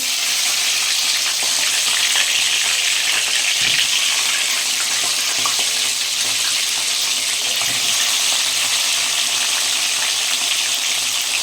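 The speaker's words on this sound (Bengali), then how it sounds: "এই কড়াইতে কিন্তু আমি কাঁকড়াগুলো ভেজে নেবো একটা একটা করে কাঁকড়া ছাড়ছি দেখো" Crabs are dropped one at a time into hot oil in a wok, producing a loud, continuous, close-up hiss and crackle that holds steady throughout with no talking.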